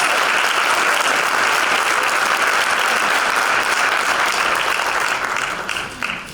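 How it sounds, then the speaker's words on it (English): Audience applause for a choir at a Women's History Month assembly at the University of Arkansas Pine Bluff: dense, sustained clapping from a large crowd that holds steady before tapering off at the end. "give them a big round of applause."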